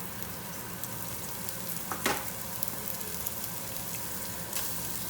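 Butter and small-diced carrots for a rabbit ragu frying in a pan: a constant crackling sizzle, close and even, with one or two brief stirring rustles and no talk.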